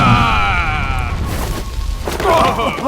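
A loud, deep boom with cracking and rumbling from an animated fantasy series, layered over a dense, busy mix of other effects and voices.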